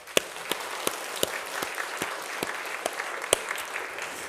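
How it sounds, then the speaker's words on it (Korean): Church congregation applauding during a Sunday morning Methodist service, a sparse, scattered patter of individual claps with a few sharper hand strikes standing out, moderately distant and steady throughout. "박수 한번 하시죠"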